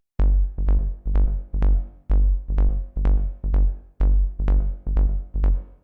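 Rolling progressive techno bass line pulsing in quick repeated groups of plucky, decaying low notes with a slight reverb tail, steady driving rhythm, loud and alone.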